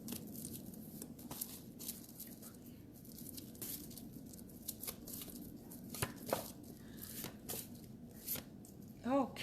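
Tarot cards are shuffled close by in a series of quick papery riffles and soft slaps. They are faint and irregular, with a little background noise.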